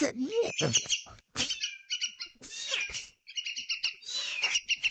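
A baby bird gives high, thin chirps and tweets in rapid bursts, close by, with short pauses between clusters and a voice speaking briefly at the start.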